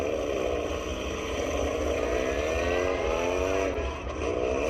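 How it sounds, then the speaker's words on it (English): Demolition derby cars roar steadily in the background at a Schomberg, Ontario derby, their engines a continuous loud rumble with overlapping revving throughout. "Some cars in the background there."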